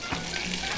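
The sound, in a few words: pancetta frying in a pan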